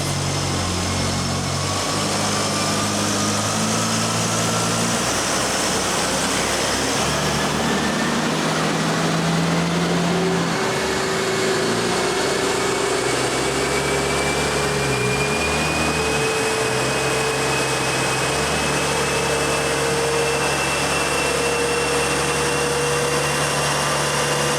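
A 1979 Ford Mustang Ghia four-cylinder runs at full throttle on a dyno, a loud steady engine drone with slowly rising pitch that continues unbroken throughout.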